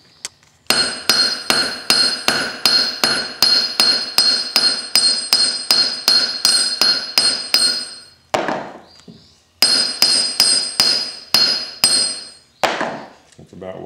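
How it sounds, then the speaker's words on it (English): Rapid hammer blows flattening 18 gauge steel wire on a small anvil, loud, close and bright, about twenty evenly spaced ringing strikes, a short pause, then another quick burst of blows. "I just take a piece of it and I flatten it out on my little anvil here"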